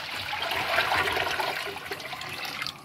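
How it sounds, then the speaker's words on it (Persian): Water poured into a rice pot for making sholeh zard, a steady near rush of pouring that runs about three seconds alone with no talk, ending in a brief sharp clink. "آبو میریزیم"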